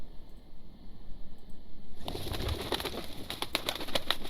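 Pigeons coo in the Enchanted Stories 2 game, soft repeated calls rising over a quiet background and becoming busier and louder midway, with faint flapping and chirps mixed in.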